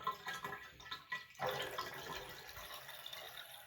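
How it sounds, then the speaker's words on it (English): Water drains fast down a freshly unclogged drain, a steady rushing gurgle that swells after a few brief splashes and keeps pouring at moderate volume without talk. "It hasn't drained that fast in a very, very long time"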